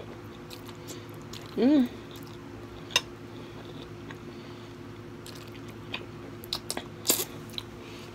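Pork and broccoli are bitten and chewed in a quiet room, a few soft crunches and wet squishes close to the mic, while a single appreciative hum is voiced.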